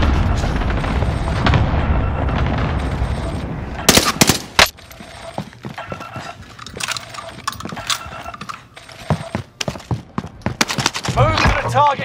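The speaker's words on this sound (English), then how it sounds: "Allied cluster strike arriving." A rapid barrage of loud booms and gunfire-like cracks from an allied cluster strike in Call of Duty: Modern Warfare, bursting in dense clusters over continuous game noise and background chatter, with sharp impacts peaking around the middle and end.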